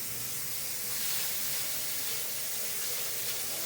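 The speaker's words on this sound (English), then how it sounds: "just pour the hot oil" Hot oil poured out while cooking brown stew chicken, giving a steady broad hiss that swells slightly midway and holds for several seconds, close and alone with no voices.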